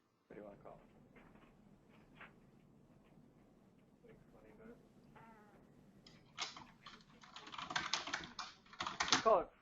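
Keystrokes on a computer keyboard while an email subject line is typed, starting as scattered taps under a murmur of voices, then building into a dense, fairly close burst of rapid typing near the end.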